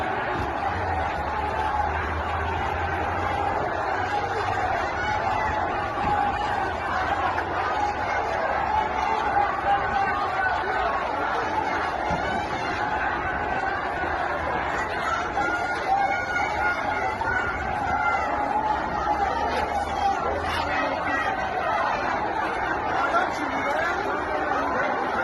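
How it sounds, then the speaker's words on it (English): A large crowd of protesters fills the streets of Tehran with a dense, continuous murmur of many voices, steady and fairly loud throughout with no single voice standing out. "That's a surprisingly big crowd to still be out in the streets"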